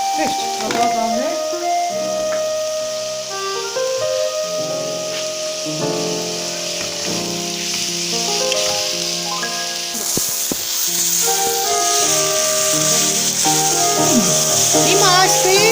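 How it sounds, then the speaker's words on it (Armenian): Meat and peppers fry in a pan on a gas stove with a constant sizzle and hiss. Someone talks over the cooking, and a steady musical background plays throughout. "Հիմա այսպես շարունակ խառնելով տապակում ենք թե միսը եւ թե բիբարը։"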